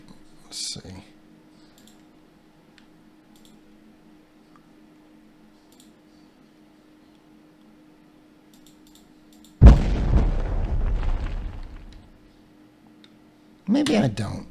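An explosion goes off in a 3D space shooter game built in Unity, a sudden low boom that rumbles for about two seconds before fading, with a second burst near the end of a mostly quiet stretch.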